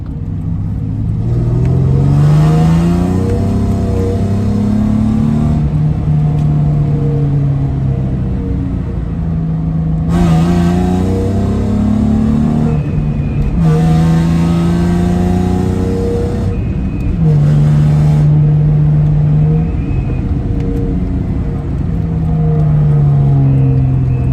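A car engine revs up and drops back repeatedly while downshifting, loud and close, with rising and falling pitch sweeps across about two dozen seconds and no talking.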